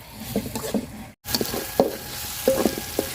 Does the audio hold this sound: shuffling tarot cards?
no